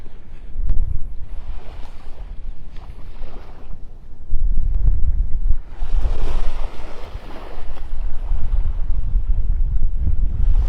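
Strong wind buffets the microphone on a beach at Wiggins Pass in North Naples, Florida, with ocean surf washing and roaring continuously underneath, loud and close, with no speech.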